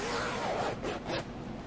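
A zipper is pulled along a sewn cosplay garment, a close, quiet rasping run of about a second and a half with a brief pause partway, heard alone without talk.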